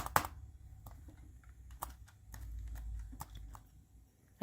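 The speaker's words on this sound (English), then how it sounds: "Oh, maybe the keyboard doesn't actually work." Scattered taps on a Dell Latitude CP M233XT laptop keyboard, sparse and uneven, some louder than others, over a low background rumble with no speech.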